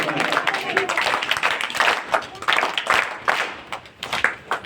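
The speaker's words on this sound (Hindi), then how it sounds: "ताली।" An audience at a Republic Day school celebration claps along, individual hand claps standing out in an uneven, pulsing rhythm close by, with murmured voices mixed in among the claps.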